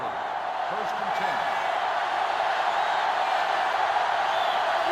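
Stadium crowd noise from the NCAA Football 2005 video game, a steady loud roar of a sellout crowd under a commentator's voice for the whole stretch.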